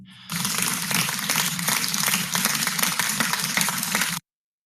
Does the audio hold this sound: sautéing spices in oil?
no